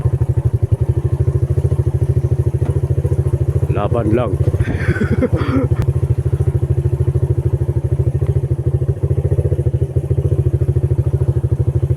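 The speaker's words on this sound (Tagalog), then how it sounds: "Sangit-sangit ang motor mga kabisdak." A motorcycle rumbles steadily at close range along a rough, bumpy road, its low engine drone continuous throughout, with brief clattering jolts and a short stretch of talk from a rider partway through.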